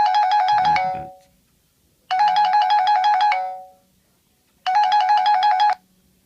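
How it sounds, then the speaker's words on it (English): A mobile app notification alert sounds three times on a phone, each a loud, bright electronic chime burst about a second long, separated by short silent gaps, with no talking. "on this phone I should receive a notification"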